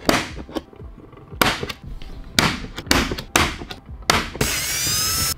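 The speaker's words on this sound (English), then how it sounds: "I'm gonna go ahead and use my spring-loaded center punch here." A spring-loaded center punch snaps against metal while marking drill points during a car audio install, a series of about seven sharp, loud clicks at irregular intervals, followed by a brief high-pitched whine.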